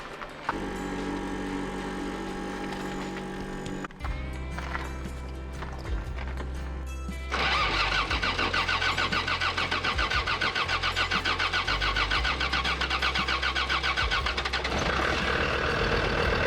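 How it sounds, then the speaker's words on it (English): A car engine is jump-started from a house battery on an overlanding trip: cranking and engine noise build steadily, then catch and run louder and steadier for the second half, with no talking. "Now we try to jump the car from our house battery."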